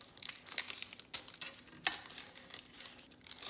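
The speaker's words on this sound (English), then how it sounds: "put the parchment paper into the pan and sort of push it into the corners" Parchment paper crinkling and rustling as it is pressed and folded into a baking pan for brownies, with soft, close, irregular crackles and one sharper crinkle partway through.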